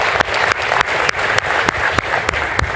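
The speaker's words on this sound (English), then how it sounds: "Let's give it a clap." An assembly audience claps together, a brief, dense round of applause with a few loud, sharp claps punching through at a regular beat.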